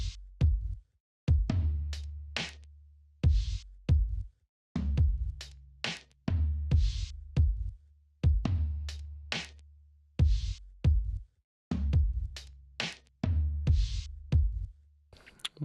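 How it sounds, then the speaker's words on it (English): Sampled drum pattern built from SSD 4 kit samples, with punchy kick and snare hits and bright cymbal strikes repeating in a steady groove, loud and alone with no voices. "quite a bit of work into getting a drum pattern that would kind of suit the song here"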